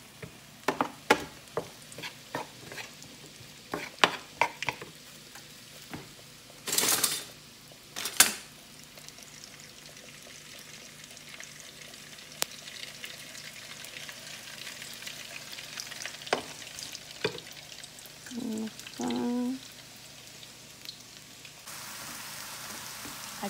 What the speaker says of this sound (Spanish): Aquí puse una tortilla para que se vaya friendo.